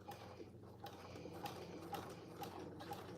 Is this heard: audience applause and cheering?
no